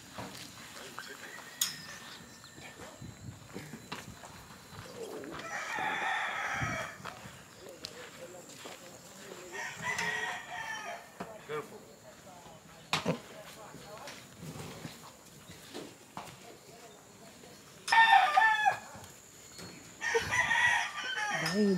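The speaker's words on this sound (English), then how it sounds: "I want to show you the chickens." A rooster crows several times at intervals, fairly near, over faint outdoor background noise and occasional clucking.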